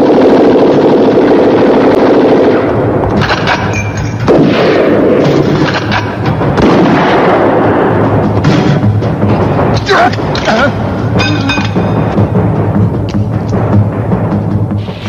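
An explosion blows up the exit in an action-film scene, sounding as loud, sustained rumbling blasts with repeated heavy booms and crackling debris that fill the whole stretch, with voices mixed in.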